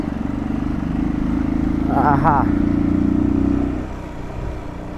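A motorcycle hums steadily while being ridden along a rough road, a continuous mid-pitched engine drone with a brief rise, heard close up beneath a man's short exclamation.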